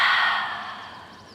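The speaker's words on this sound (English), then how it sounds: "Take a big breath out your mouth." A single long exhale pushed out through the mouth during a morning yoga flow, a loud, close breathy rush that fades steadily over about a second.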